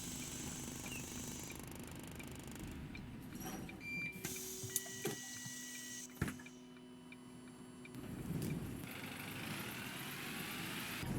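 Volvo B5LH Gemini 3 bus in OMSI 2 with its engine switched off while the electric generator keeps running, giving a steady low hum and whir broken by a few brief clicks and switch sounds.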